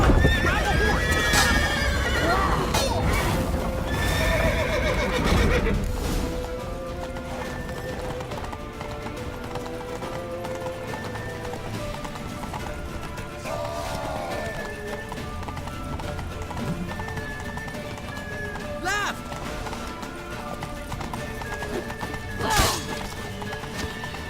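Witcher 3 game audio with horses whinnying and hooves clattering amid chaotic action, loud at first then settling, with shouting voices over the scene.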